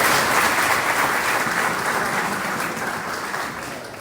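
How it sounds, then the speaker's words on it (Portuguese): A church congregation claps during a sermon, broad steady applause from a large crowd that stays full and even, then slowly fades a little toward the end. "Uma salva de palmas para o nosso Deus."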